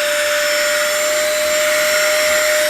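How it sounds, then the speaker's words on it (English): A vacuum cleaner runs steadily while it sucks debris out of the gaps between laminate or vinyl floorboards, giving a continuous close whine with a high pitched tone and no talking. "Start vacuuming the cracks."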